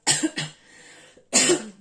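Two harsh coughs in quick succession, a short pause, then a third cough, close and fairly loud with no talking.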